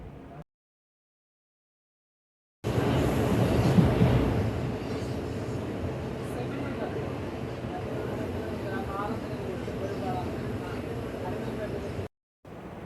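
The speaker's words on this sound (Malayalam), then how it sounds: "ട്രെയിനിൽ പോകുമ്പോൾ കുറേ നേരം ബോറടിച്ചാണ് ഇരുന്നത്" A steady rumble of a moving train fills the cabin, with faint chatter and rhythmic rattling after a brief silence.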